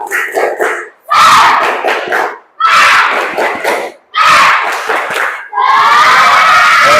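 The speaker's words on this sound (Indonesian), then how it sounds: "Tepuk semangat." Classroom pupils perform the tepuk semangat clapping chant, loud and close, in four energetic bursts of shouting and clapping with short pauses between them, ending in a longer continuous burst.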